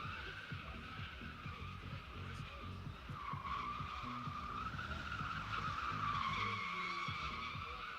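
A Corvette drifting at a drift pit, its tires skidding and squealing in a long rising screech over engine roar, heard from a distance with faint crowd noise.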